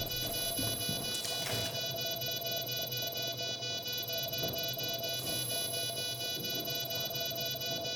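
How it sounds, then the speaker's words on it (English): Rainbow Six Siege bomb beeping steadily through the whole stretch, a loud electronic pulse held over constant game ambience, with a brief burst of noise early on. "I can't hear anything because the bomb is just so loud."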